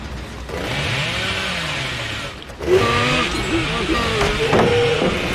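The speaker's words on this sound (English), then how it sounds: "Now we're back to the chainsaw thing." The killer's chainsaw in the horror game Dead by Daylight revs with a steady buzzing engine drone that surges louder midway, alongside in-game sounds.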